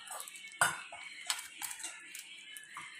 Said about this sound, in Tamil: இப்போ இது எல்லாத்தையும் நல்லா கலந்து விட்டுருவோம்.